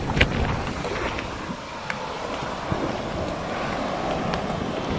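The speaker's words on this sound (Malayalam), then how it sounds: "ബീച്ചിന് അത്ര അടുത്തായതുകൊണ്ട് നല്ല കാറ്റാണ്." Strong wind blowing near the beach by Vizhinjam lighthouse, a steady broadband roar buffeting the microphone with faint surf beneath, continuous and fairly loud throughout, with no talking.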